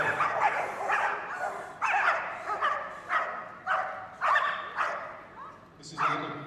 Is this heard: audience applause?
no